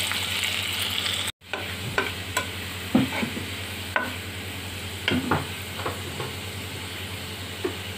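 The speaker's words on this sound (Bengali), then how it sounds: "আমি কয়েকটা শুকনো মরিচ ভেজে নিই" Dried red chillies fry in hot oil, a continuous close sizzle broken by a sharp cut-off near the start, then punctuated by several crisp pops and spatters spread irregularly through the rest.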